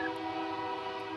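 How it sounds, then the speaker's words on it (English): A freight train rolls past outdoors, a steady sustained rumble with tonal ringing that holds evenly throughout without a break. "And you can hear the train going by."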